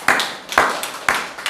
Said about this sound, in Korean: 하나님께 박수로 영광을 돌리겠습니다